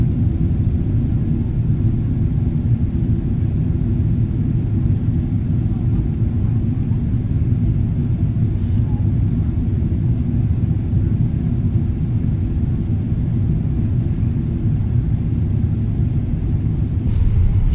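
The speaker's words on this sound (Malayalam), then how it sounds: "ഇനിയിപ്പോ ബിർമിംഗ്ഹാമിലേക്ക് ലാൻഡിംഗ് ആണ്, അത് നിങ്ങൾ ആസ്വദിച്ചോളൂ" Passenger airliner on its landing approach into Birmingham, heard from the cabin as a steady, loud low-pitched engine and air rumble that runs unbroken from start to end.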